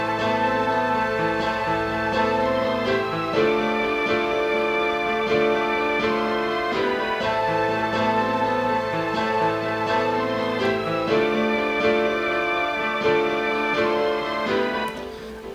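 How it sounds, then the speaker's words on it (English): Layered trap beat melodies built in FL Studio, looping for about fifteen seconds as a full chorus section with sustained tonal parts and steady bass, loud and continuous with no talk. "if you listen to all the melodies together,"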